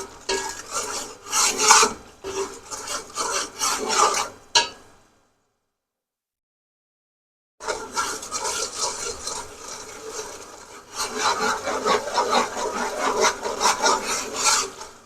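Fresh curry leaves are stirred into masala in a pot for kadhi pakora, giving close scraping and rustling strokes in an irregular rhythm, broken by a few seconds of silence before the stirring resumes.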